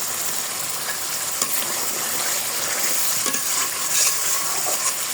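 Tomatoes sizzle in a drumstick curry with mustard paste while a utensil stirs through the pan, with steady close frying hiss and scattered scraping clinks.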